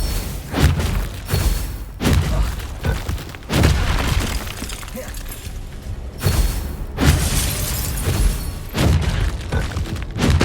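A Glacier ice spell shatters in the Hogwarts Legacy video game amid heavy combat, repeated loud crashing bursts and cracking breaks recurring every second or two with booming thuds between.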